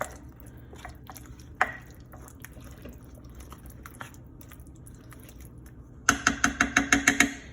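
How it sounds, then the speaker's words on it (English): A spoon stirs mushroom sauce around pork chops in a slow cooker, with a few wet drips and soft knocks. It ends in a quick run of about eight rhythmic clinks against the pot. No one speaks. "I'm just gonna quickly grab a spoon, and we're just gonna a bit of a stir"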